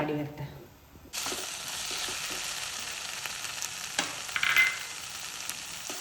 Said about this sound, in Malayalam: ഇപ്പോൾ ഉള്ളി, വെളുത്തുള്ളിയും ഇഞ്ചിയും പച്ചമുളകെല്ലാം കൂടിയിട്ട് നല്ലോണം ഒന്ന് വാട്ടിയിട്ടെടുക്കാം